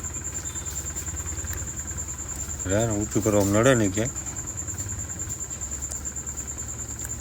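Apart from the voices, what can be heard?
tractor engine running while tractor is moved forward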